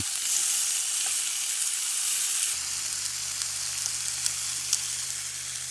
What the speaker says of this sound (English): oh, that's sizzling